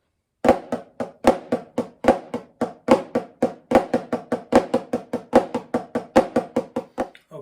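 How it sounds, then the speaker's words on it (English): A snare drum plays a rudiment exercise of four flam accents followed by four flam paradiddles, crisp evenly spaced strokes each led by a soft grace note, solo and close with no talking. "4 flam accents and 4 flam paradiddles."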